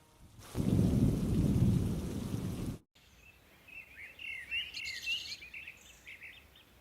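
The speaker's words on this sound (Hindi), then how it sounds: "केवल बाहर गिरती बारिश की आवाज तोड़ रही है" Heavy rain pours loudly outside for a couple of seconds, then cuts to quieter rainfall with birds chirping in the background.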